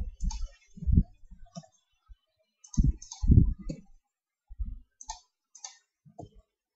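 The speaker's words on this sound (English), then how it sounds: "I won't waste too much more time with this typing." Keys on a computer keyboard clack in short, irregular bursts with brief pauses between them, close and fairly quiet, with no voices.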